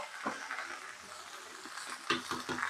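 New potato bhaji fries and is stirred in a pan, a soft low sizzle with scraping strokes and a few sharper utensil clinks against the pan near the end.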